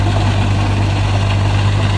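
An Escorts Kubota Digitrac tractor engine runs with a rotavator, a loud, constant low drone with a strong steady hum, holding even and unbroken with no voices.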